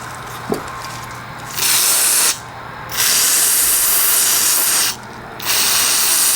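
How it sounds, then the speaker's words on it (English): Gumout Jet Spray carb, choke and parts cleaner hisses loudly from an aerosol can while a free push mower is revived. There are three long, close spray bursts separated by short pauses. "gum out jet spray, carb choke, and parts cleaner"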